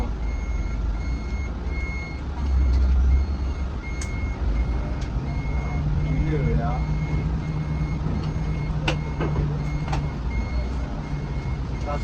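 A warning alarm on a Jetbus 5 SHD coach beeps in steady, evenly spaced pulses over the constant rumble of the running bus, with voices talking faintly in the background.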